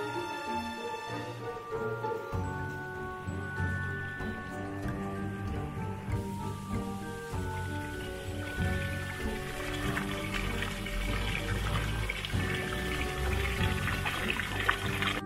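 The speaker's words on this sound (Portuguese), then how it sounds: "Lindas cachoeiras de águas geladas e cristalinas também estão presentes na" A cold, crystal-clear waterfall in the Urupema countryside flows steadily, a continuous rushing wash of water heard alone at moderate level, joined early on by some soft instrumental music.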